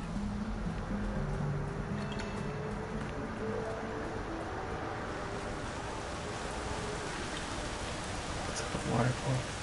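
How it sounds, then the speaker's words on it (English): Rain falls in the video game Kena: Bridge of Spirits as a steady, dense hiss that continues throughout, with faint voices and game sounds now and then. "Oh, it's raining."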